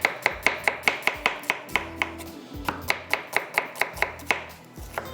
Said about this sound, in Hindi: इतनी देर में प्याज की कटिंग कर लेंगे